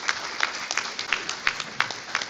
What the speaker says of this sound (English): I think we should give them a round of applause as well.